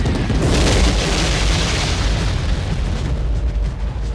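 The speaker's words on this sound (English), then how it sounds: "the napalm tree line explosion from the end of the Flight of the Valkyries battle sequence" A massive, sustained roaring blast fills the whole clip, a dense rumbling napalm explosion along a tree line in film footage that barely fades over four seconds.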